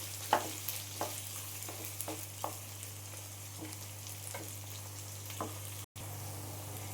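Four thick-cut onions frying in a pan for mutton masala sizzle softly and evenly, with several light stirring knocks and a low steady hum beneath, broken by one brief dropout near the end; no one talks.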